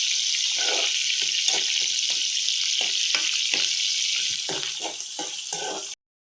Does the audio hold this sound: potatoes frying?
yes